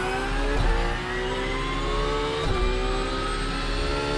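A sim racing car engine in a video game revs and accelerates out of a corner, a steady loud mid-pitched drone with rising harmonics and brief throttle blips, alone with no voices.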